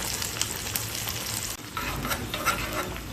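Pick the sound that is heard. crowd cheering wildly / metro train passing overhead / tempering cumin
tempering cumin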